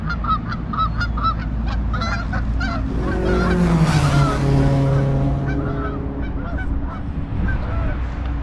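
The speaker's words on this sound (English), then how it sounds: "I got some geese over here that are talking to me." Geese honking repeatedly nearby, a rapid chorus of calls that swells into a long drawn-out cry in the middle over low background rumble.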